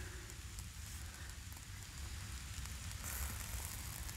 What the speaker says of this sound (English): as soon as I got it going, it starts raining